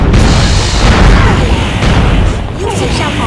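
Heavy bombardment explosions in the video game Atlantica Online boom loudly in a continuous, rumbling barrage that fills the whole moment with deep, overlapping blasts.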